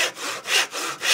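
A hand saw cuts through an old wooden broom handle, rasping in about four quick back-and-forth strokes, close and crisp with no voices.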